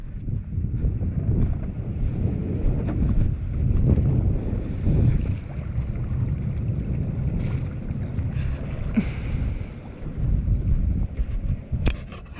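A sailboat's engine idles while the boat is moored alongside a quay, a steady low rumble running throughout under wind buffeting the microphone, with no talk.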